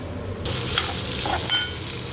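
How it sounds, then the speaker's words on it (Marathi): Leftover cooked rice stir-fries with tempering in a hot pan, with a steady sizzle and a couple of light scraping stirs. "दोन्ही मिळून मी भात फोडणीच टाकते"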